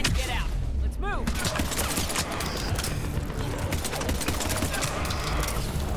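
Rapid bursts of gunfire in the Mass Effect Legendary Edition video game, dense overlapping shots with mechanical clatter and game effects, a player's voice occasionally heard over the action.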